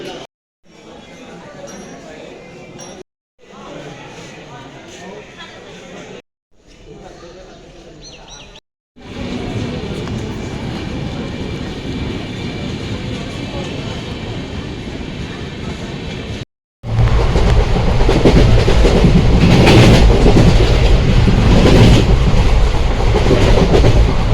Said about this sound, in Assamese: আজি ফাৰ্ষ্ট জাৰ্ণি হ'ব ট্ৰেইনত